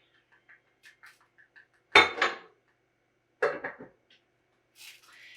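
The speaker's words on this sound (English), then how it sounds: "Give it a good little stir." A dye bag being stirred in a metal pot on the stove, a few soft taps, then two bright metallic clanks of a utensil against the pot, with quiet gaps between, close by and no talking.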